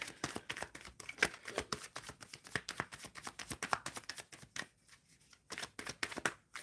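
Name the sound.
shuffling tarot cards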